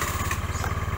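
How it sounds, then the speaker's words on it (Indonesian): A 2013 Honda Spacy Helm-In PGM-Fi scooter engine runs close by with an even, rapid low putter, heard briefly with no talk. "Ini suara starternya khas banget nih,"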